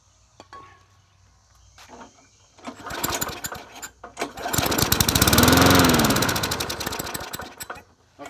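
A worn Huskee 22-inch side-discharge push mower coughs through a couple of failed pulls, then catches and runs in a loud, rattling small-engine drone that surges and settles, close up with no voices.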